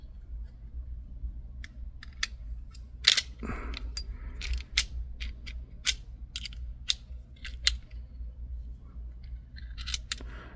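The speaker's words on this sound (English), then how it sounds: "Our little silver tab from the slide stop is going to go back underneath that spring. And I hear that click as I push it in." A Sig P238 pistol slide stop being worked back into place under its spring, a series of small, sharp metallic clicks and taps at irregular intervals over a quiet background.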